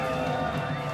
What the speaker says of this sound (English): Please give Matt McNulty thunderous applause to make up for the fact that you did it at first.